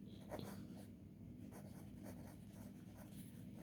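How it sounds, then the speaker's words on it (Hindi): Pen or chalk writing out a balance sheet heading during an accounting lecture, faint scratchy strokes over a steady low background hum. "ऊपर लिखेंगे"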